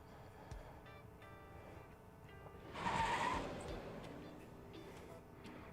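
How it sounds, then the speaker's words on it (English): Against a quiet engine hum, a brief burst of hissing, screeching tire noise swells up and fades out as a delivery truck coughing black smoke skids to a stop in the video game Arknights. "The delivery truck starts coughing up black smoke and skids to a halt along the side of the road."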